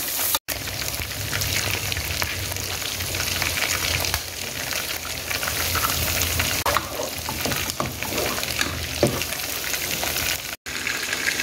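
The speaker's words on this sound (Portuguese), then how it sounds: "Vai fritar ovo aí?" An egg fries in a pan during home cooking of farofa with calabresa sausage, giving a steady, close crackling sizzle that runs continuously, with scattered louder pops and spits.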